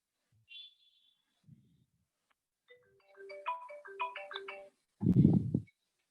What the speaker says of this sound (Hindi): दो मिनट रुको, हाँ मेरे इंस्टीट्यूट से फोन है।